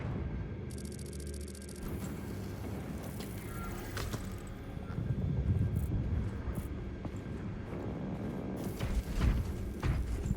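A gunship's aircraft engine in the Warhammer 40K Space Marine 2 video game drones in a steady, loud rumble with a whining edge, swelling toward the end.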